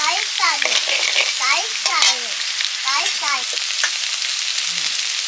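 Dry red chillies and panch phoron crackle in hot oil in a pan beside fried potatoes and aubergines, a bright steady sizzle with brief high chirping vocal sounds scattered over it.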